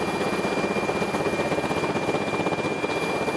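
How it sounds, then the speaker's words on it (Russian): Rescue helicopter heading out on a search over the Ust-Maya district, its rotor and engine giving a steady, close, continuous drone with a constant whine, no voices. "Вертолет с 4 спасателями на борту вылетел в Усть-Майский район ранним утром."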